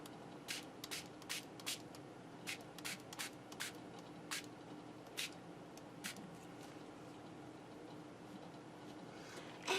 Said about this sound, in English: Okay, let's spray it.